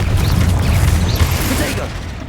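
Confringo fire-blast spell in Hogwarts Legacy, a dense rumbling explosive burst with crackling debris that fades over a couple of seconds, loud and close.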